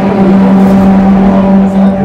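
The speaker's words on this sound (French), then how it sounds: "dans quelques instants, le départ de cette Formule 1 biplace HPEC Motorsport" A two-seater HPEC Motorsport Formula 1 car sits close by on the Dijon-Prenois circuit, its engine holding a loud, steady, droning note throughout with only a slight dip near the end.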